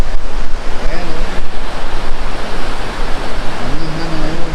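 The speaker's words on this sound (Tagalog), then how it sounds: "namihan na ngayon kaya malakas ng hangin" Strong northeast monsoon wind buffets the microphone while surf crashes continuously on a beach at Naujan, Mindoro, a loud steady roar with faint voices briefly underneath.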